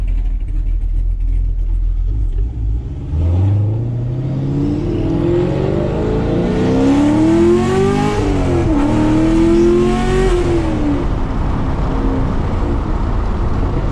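A big-cam Chevrolet Camaro 1LE engine revs hard and climbs through second gear, a loud rising roar that swells steadily across the clip with no talk over it.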